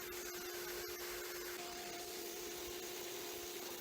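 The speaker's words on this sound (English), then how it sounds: "we're going to start the drilling process, going slow, trying to pull out any shavings so that they don't fall into the radiator, even though we have the vacuum going" A drill bores slowly into a Harbor Freight steel table while a vacuum runs nearby, making a loud, continuous whining and rushing noise with a steady tone throughout.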